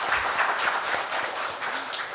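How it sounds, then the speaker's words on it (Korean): Audience applause for the newly introduced president of the Fair Economy Association at a Korean policy debate forum; steady, dense clapping from a room full of people, sustained for a couple of seconds at moderate level. "박수 한번 보내주시면 감사하겠습니다"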